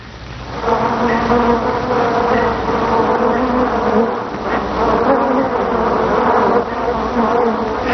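A swarm of honeybees buzzes in a dense, continuous drone, close and loud, wavering slightly in pitch, with no other sounds.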